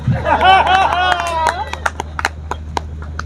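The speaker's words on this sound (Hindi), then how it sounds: "समझदार हो तो तालियां बजाओ" Scattered claps from an audience at a Hindi poetry recital, a few sharp separate hand claps following a performer's voice, close and fairly loud.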